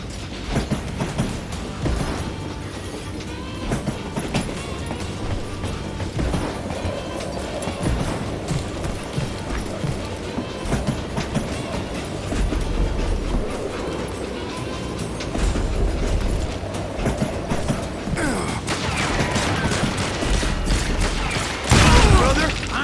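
A train rumbles and rattles continuously along rails in Call of Juarez: Gunslinger, a dense, loud clatter with mechanical noise and scattered gunfire-like bursts throughout.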